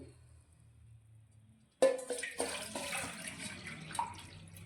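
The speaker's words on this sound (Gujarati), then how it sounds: "તો હવે તેની અંદર આપણે પાણી એડ કરીશું" After a quiet moment, water suddenly pours into a cooking pot for boiling rice flour with a splashing, gurgling rush that continues steadily nearby.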